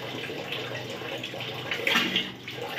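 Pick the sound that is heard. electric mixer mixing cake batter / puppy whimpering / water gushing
water gushing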